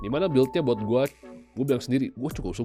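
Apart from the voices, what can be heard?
No everyday noise stands out behind the speech.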